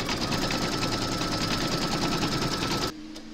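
An embroidery machine stitches an applique outline on a hooped Mrs Claus design, giving a fast, loud, continuous mechanical chatter close by that stops abruptly near the end, leaving a quiet hum.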